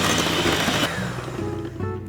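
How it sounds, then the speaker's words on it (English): An electric mixer whips on high speed for a tres leches cake, a loud, close, continuous motor whir and beater whine that shifts pitch slightly midway as the whisk is moved around. "now let's go ahead and you're going to whip it on high"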